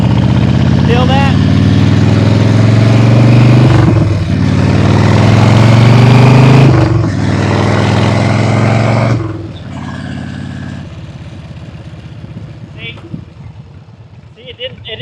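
An old motorcycle that had sat unused for years, running with its throttle and transmission engaged: a loud, close engine drone with shifting pitch that drops off sharply partway through. A person talks over it.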